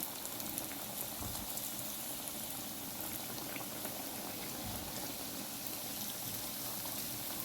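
Chocolate donuts fry in hot oil, a continuous close bubbling and crackling sizzle that holds steady throughout with no talk.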